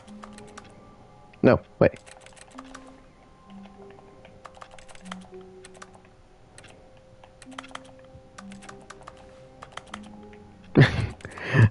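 Office computer keyboard typing from the video game The Stanley Parable, sparse clicky keystrokes scattered through the clip under soft ambient music, with a few louder knocks and someone speaking briefly.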